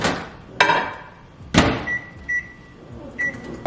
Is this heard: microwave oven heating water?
yes